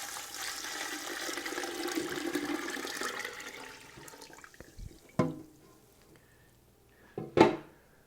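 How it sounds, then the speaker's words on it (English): A gallon of water pours into a pot with lemon, orange and lime rind, a soft continuous rushing splash that fades out, followed by a couple of louder clunks and splashes, close by with no talking. "To this I'm going to add 1 gallon of water."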